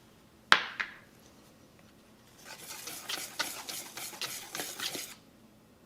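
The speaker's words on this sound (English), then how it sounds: "Stir the ingredients" All-purpose flour and salt stirred together in a bowl for homemade tortillas, a sharp knock followed by a run of soft, quick scraping strokes, close and fairly quiet.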